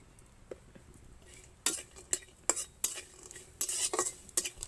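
Bori lentil dumplings fry in mustard oil in a kadai, a faint sizzle underneath sharp bursts of a spatula scraping and clinking against the pan that come in quick irregular strokes.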